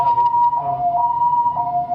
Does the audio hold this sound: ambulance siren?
yes